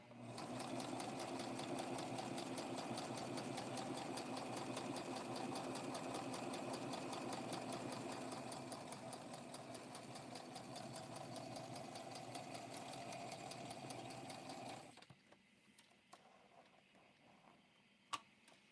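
A sewing machine runs continuously while stitching a custom blue sparkle dress for a Barbie doll, a close rapid mechanical chatter that eases slightly in pace before stopping abruptly, followed by a few faint clicks.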